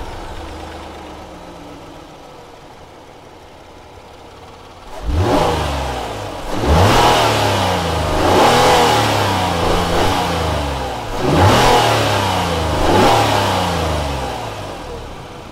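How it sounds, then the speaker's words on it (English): A 2019 Kia Sorento SUV engine revs repeatedly after a quiet start, several rising throttle blips in a loud, close rhythm with no talking. "Now that we've heard how the engine sounds,"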